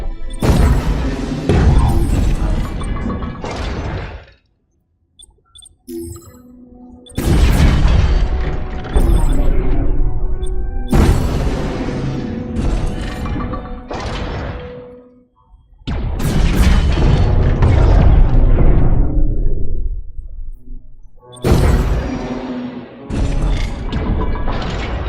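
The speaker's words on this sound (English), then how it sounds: "Now, let's follow that up with some missiles. Just press the Nova Missiles MK1 button." Nova Missiles MK1 missiles launching and exploding in the space game From Other Suns, several loud booming blasts with long decaying rumbles, separated by short silences.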